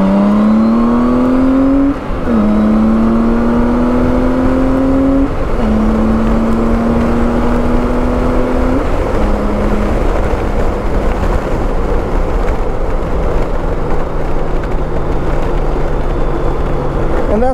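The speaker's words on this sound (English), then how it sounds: "And that's the sound of a Goldwing under acceleration." A stock Goldwing motorcycle accelerates hard up through the gears, its engine note climbing steadily and dropping at each of several shifts, loud and close throughout without talk.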